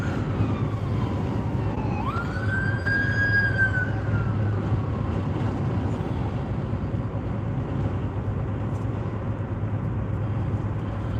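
An ambulance siren rises and wails for a couple of seconds over steady road and engine rumble heard from inside a car in slow traffic, then fades, leaving continuous driving noise.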